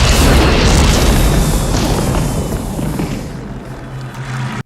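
A loud, booming explosion roars and rumbles, then slowly fades into a lower, rushing noise.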